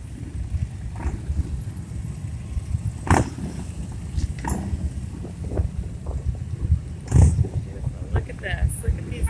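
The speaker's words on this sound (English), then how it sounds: "Look at these escorts. Very cool. Bikes for days." Motorcycles and trikes in a long escort procession roll past on a roadside, a low continuous rumble with occasional louder swells as individual bikes go by, mixed with wind buffeting and a nearby voice.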